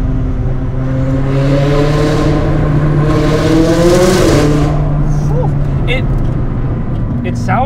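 A modified McLaren 600LT fitted with downpipes accelerates hard up close, its loud engine note climbing steadily through the revs with a sustained, hard-edged roar from start to finish.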